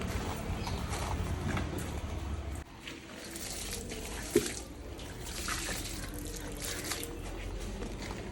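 A newly planted dragon fruit cutting is watered, with a soft continuous pour and splash of water onto soil, a brief knock partway through, and no speech.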